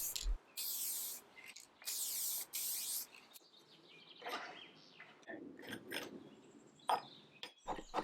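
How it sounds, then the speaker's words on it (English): Lacquer sprayed onto furniture legs from a can, several short hissing bursts of about a second each with pauses between, close and loud, followed by quieter handling noises and faint bird chirps outdoors. "First I sprayed the legs with some lacquer."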